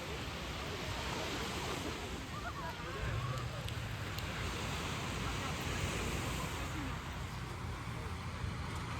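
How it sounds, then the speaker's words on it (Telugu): Sea waves breaking on a calm beach, a steady broad rushing wash of surf that continues evenly throughout without clear pauses. "అలలు చూసుకుంటా ఇలా కూర్చొని ఉంటే ఎంత బాగుందో."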